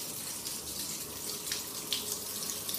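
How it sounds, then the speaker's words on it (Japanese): Hot sulphur spring water gushes from an orange tap into a guest-room bath at a hot spring inn in northern Ibaraki, a steady close splashing rush that runs on alone without a break. "オレンジ色の蛇口をひねっていただきますと、このように、ね、お湯が出ます。"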